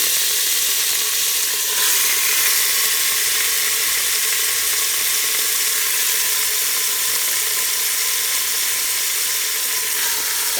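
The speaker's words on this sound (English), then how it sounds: "I'm going to brown them up a little before I pressure cook them." Pork ribs browning in a hot pot before pressure cooking, giving a loud, continuous sizzle and crackle that holds steady from start to finish.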